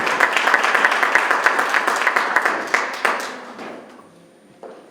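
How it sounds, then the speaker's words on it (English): A crowd at an awards ceremony applauds steadily with dense, even clapping that thins out and fades over a few seconds, a few last claps trailing off. "A round of applause, ladies and gentlemen"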